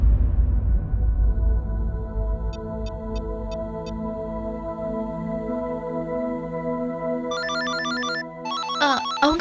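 A telephone rings in a home in a Tamil TV serial: short bursts of rapid electronic pulses sound twice over sustained background music.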